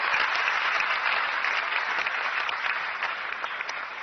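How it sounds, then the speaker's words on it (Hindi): An audience at a degree event gives itself rousing applause, a continuous wash of many hands clapping, even and fairly distant, tapering slightly toward the end. "इसलिए चाहूंगी कि एक बार जोरदार तालियां आप सभी अपने लिए दें।"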